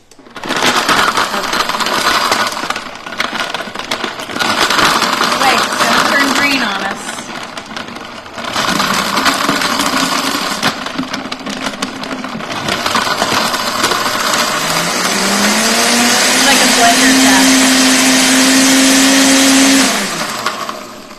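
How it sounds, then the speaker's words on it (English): A strong blender churns bananas that were stuck together with a loud, coarse roar in several bursts, its pitch rising and settling into a steady whine near the end. "my bananas were stuck together. But this blender is strong. It can do it."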